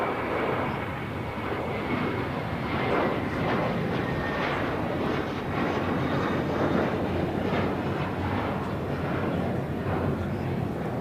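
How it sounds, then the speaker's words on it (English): A JetBlue Airways A321 jet takes off with a broad, steady roar that swells slightly and carries from some distance, and people talk faintly beneath it. "This is JetBlue Airways 524 taking off to JFK on an A321"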